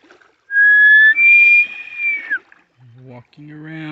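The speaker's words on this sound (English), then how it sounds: "I came with a whistle." A sharp, high whistle blows twice in quick succession, loud and close, outdoors in Northern California, followed by a short stretch of talking.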